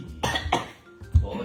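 A person coughs two or three times in quick, close bursts, the last one low and heavy, with brief vocal sounds between them.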